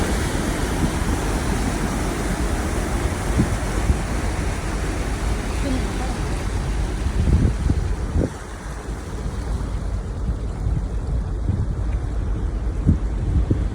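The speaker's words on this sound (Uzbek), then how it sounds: "Mana bu to'lqini kelyapti tarqatib." Water waves wash in with a continuous rushing noise and gusts of wind on the microphone, while occasional low thumps and faint voices sit beneath the surf.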